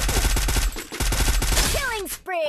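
Fast rhythmic automatic gunfire in the Free Fire battle game, loud and steady, ending in a few rising whistling tones and a short electronic chirp.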